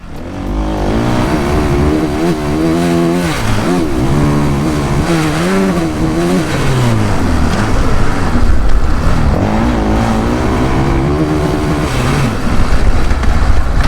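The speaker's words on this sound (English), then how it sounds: "they also have an engine enhancement mode, and it's supposed to pick up engine vibrations through solid conduction" Motorcycle engine captured by a bike-mounted Insta360 X6 camera, loud and close, revving up and down repeatedly with pitch sweeps throughout, no voices.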